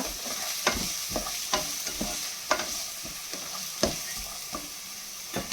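Onion and sweet corn frying in a pan, a soft continuous sizzle broken by regular sharp clicks of a spoon stirring against the metal, close and fairly quiet.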